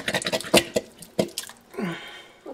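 Ham broth, chunks of ham and kidney beans are tipped into a cooking pot in a few quick splashy pours, wet and close, ending in a short trickling slosh.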